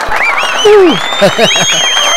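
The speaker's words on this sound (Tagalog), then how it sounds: "palakpak lahat ng mga kongresista" Congressmen in the Philippine Congress applaud over flood control projects, a soft background patter of clapping largely covered by loud voices and cheering up close.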